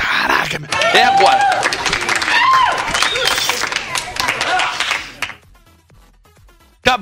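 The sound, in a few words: applause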